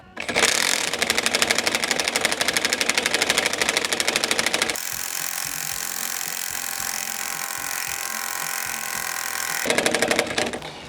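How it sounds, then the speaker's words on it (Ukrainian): A Dnipro-M TD 12 mini screwdriver drives an M10 screw, whirring loudly and steadily up close, then shifting to a lower chattering, knocking impact rhythm before a brief return to the higher whir; no one speaks. "Я зараз кручу гвинт на головку М10"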